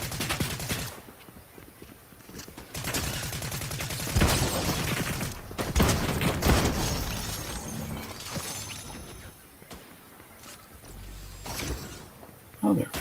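Gunfire in the Fortnite video game, with bursts of shots and crackling impacts running through the scene beneath someone talking.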